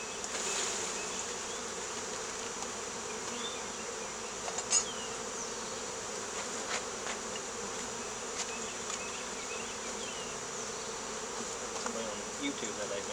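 Honeybees from a swarm being installed in a hive drone in a dense, continuous buzz, close and steady, with a few individual bees flying past.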